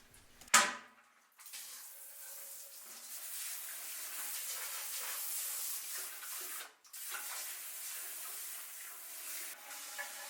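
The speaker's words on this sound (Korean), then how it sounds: "깨끗하게 물 샤워 시켜줍니다." Steady water spraying and rinsing inside a toilet bowl during bathroom cleaning, a broad hissing rush lasting most of the stretch after a brief sharp clatter at the start, with a short break midway.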